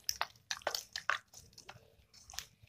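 Cream being whisked to separate butter for ghee, producing soft wet squishing and slapping strokes in an irregular rhythm, close and faint, with no voices.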